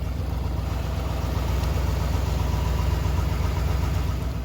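A 1982 Ford LTD with a 351 Windsor V8 and true dual exhaust idles steadily nearby, a loud, even, throbbing rumble with a slight exhaust leak, no talking over it.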